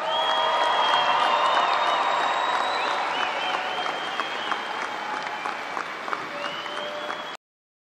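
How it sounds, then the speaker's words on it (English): A large commencement crowd applauds the Angelo State University class of 2016 at the fall graduation ceremony, a dense, steady wash of clapping that stays loud and even for about seven seconds before stopping abruptly. "Let's give them a round of applause."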